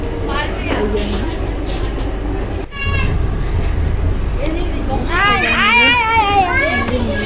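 Inside a moving metro train, a steady low rumble runs throughout, with children chattering and playing close by over it.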